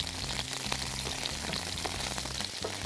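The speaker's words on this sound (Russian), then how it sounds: "Жарим перчик, жарим мясо" Bell pepper and thin strips of veal frying in oil in a pan, a steady crackling sizzle with popping spatters, close and continuous, no talk.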